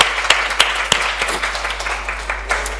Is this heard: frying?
no